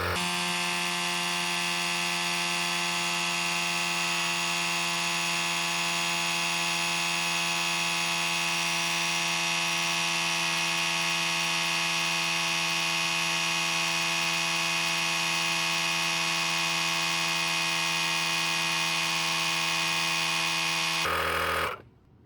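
A GOOLOO GT160 dual portable air compressor inflates a tire from 34 to 40 psi with a steady, droning mechanical buzz. It runs unbroken and up close for about twenty seconds, then cuts off abruptly.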